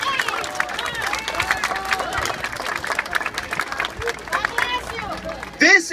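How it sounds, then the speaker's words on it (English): A crowd at an outdoor pro-Israel rally on the Brighton Beach boardwalk in Brooklyn claps and cheers, moderately loud and mixed with voices and babble, before a sudden louder burst at the very end. "Give yourselves a big round of applause for standing for freedom"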